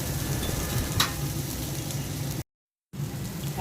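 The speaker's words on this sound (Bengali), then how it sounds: "বুট আর ডাবলি ভেজে নিচ্ছি" Chickpeas and dried peas fry in a pan with a continuous, close sizzling hiss. It cuts out for about half a second of silence, then resumes.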